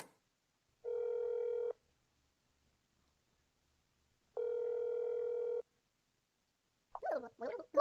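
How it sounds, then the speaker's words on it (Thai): Two separate steady ringback tones, each about a second long, sound in a telephone call in the video game That's Not My Neighbor, followed by a short garbled voice at the end. "เดี๋ยวขออนุญาตโทรไปตรวจสอบกับ น้องของคุณนะคะ สองหกหกแปดนะคะ"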